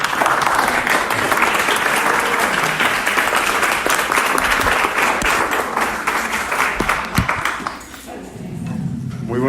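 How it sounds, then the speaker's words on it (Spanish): An audience at a Coda Puebla first-anniversary gathering breaks into loud, sustained applause that fills the room, with a few voices mixed in before the clapping thins near the end. "Un fuerte aplauso, por favor."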